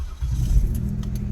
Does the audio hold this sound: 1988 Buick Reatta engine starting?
yes